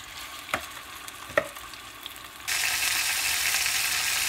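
Chicken frying in a pan for Guatemalan pollo guisado: a soft sizzle broken by two sharp knocks of a utensil, then a sudden loud, steady crackling hiss that carries on close by.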